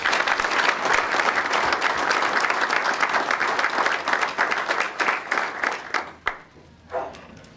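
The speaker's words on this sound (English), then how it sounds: "So please give them a large round of applause." Warm audience applause at an MBA installation dinner, a full room clapping loudly and steadily before thinning into scattered claps and fading out near the end.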